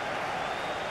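Stadium crowd in FIFA 18 applauding an ovation, a steady broad wash of clapping and cheering filling the whole second at even loudness with no gaps.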